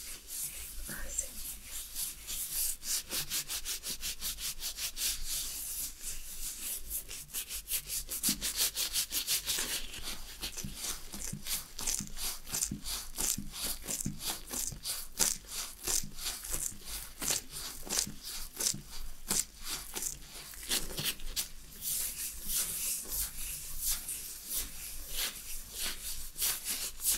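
Hands are rubbed with lotion during a hand massage, a close, continuous soft swishing and rubbing with a fairly even rhythm that runs the whole time.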